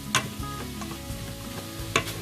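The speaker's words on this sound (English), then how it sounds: "So we'll now stir that into the onions" Yogurt being stirred into onions frying in a pan for lamb pilau, a steady close sizzle broken by a few scraping spoon strokes and light knocks against the pan.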